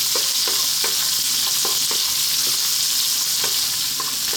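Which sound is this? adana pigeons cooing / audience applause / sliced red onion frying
sliced red onion frying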